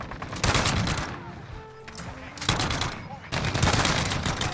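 Rapid automatic gunfire in the online shooter Modern Warfare 2, loud bursts of fire broken by short lulls with faint game sounds, a voice speaking briefly in between.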